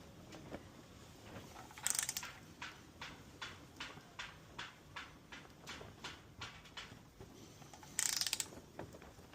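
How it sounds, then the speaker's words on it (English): A torque wrench ratchets on the cylinder head bolts of a 2007 Ford Mustang 4.0 engine, a regular series of close clicks about every half second, with two louder, sharper clicks standing out. "we are going to be torquing this to 59 foot-pounds"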